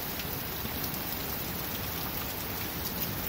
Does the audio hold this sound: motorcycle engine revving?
no